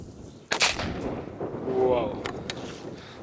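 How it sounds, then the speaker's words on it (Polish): A Dum Bum Black Edition PB120D firecracker blows up inside a bottle with one loud, close bang, followed by a rumbling tail and a couple of faint later pops. "No i huk."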